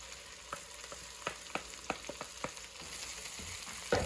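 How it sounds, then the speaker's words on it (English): Sliced mushrooms frying in a pan over medium heat for soup, a low steady sizzle with repeated light clicks and taps of stirring, close and without talk. "now I'm going to add in all of the mushrooms that I sliced up"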